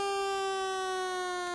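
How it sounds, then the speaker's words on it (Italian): A siren at a horse racetrack holds one loud, steady, unbroken tone throughout, with no voices over it. "Intanto suona la sirena, non sappiamo il motivo"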